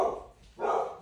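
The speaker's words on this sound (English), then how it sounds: "Doggy, stop barking." A dog barks twice in quick succession near a dock where rowing oars are being handled, the barks loud and close, with no talking.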